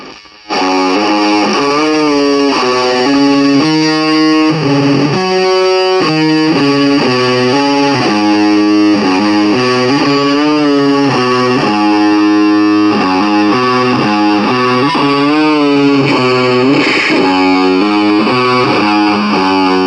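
Electric guitar played through a modified Digitech Hot Head distortion pedal, heavily distorted and saturated, with chordal riffs in a steady rhythm that stay loud and continuous throughout.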